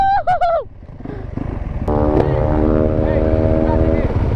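Dirt bikes, including a brand new 2024 Yamaha YZ450, race on a street. A short high whoop opens, then a close engine roar builds and holds loud and steady as the bikes rev hard.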